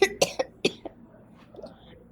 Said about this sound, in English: That was a big cough.